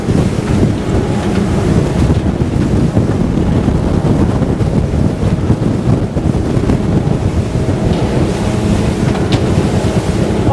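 A 2022 Fjord 38 Xpress motorboat turns through choppy water with a loud, continuous rush of wind buffeting the microphone, spray and waves slapping against the hull, and engine drone underneath.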